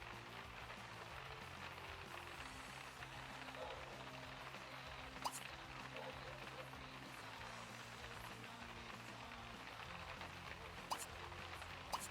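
Faint, steady patter of rain or hail in The Sims 2, a soft continuous hiss of drops with a couple of slightly sharper taps, low under a quiet in-game background.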